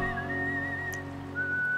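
A clear, sustained whistle in the video game Live A Live holds one steady note, then jumps to a higher pitch near the end, over a low droning musical background.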